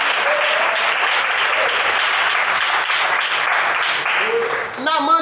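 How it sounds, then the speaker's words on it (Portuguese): A church congregation bursts into sustained applause during a sermon, a steady loud roar of clapping that fills the space, with a voice rising over it briefly at the end. "A igreja bate palmas para Jesus."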